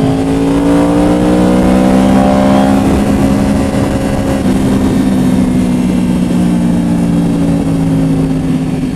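A car engine revs and roars with a steady exhaust note while driving, loud and close, pitch rising and falling slightly throughout.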